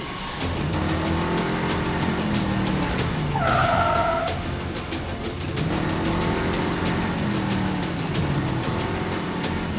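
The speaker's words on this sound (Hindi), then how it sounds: "ड्राइवर, गाड़ी घुमा दो अभी के अभी।" A car swings around hard with tires skidding and engine strain, a brief high squeal standing out midway over continuous loud road and motor noise, with no talk.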